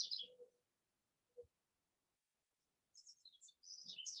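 A bird calls in short high chirping bursts, one near the start and a longer run of several chirps toward the end, separated by quiet with a faint low knock in between.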